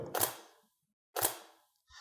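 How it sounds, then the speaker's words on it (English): A DSLR camera shutter firing at 1/8000 second gives two crisp, close mechanical clacks about a second apart, each a sharp snap with a short decaying tail, alone in a quiet room. "the first shutter that I'm going to show you is 1/8000 and show you how quick that really is"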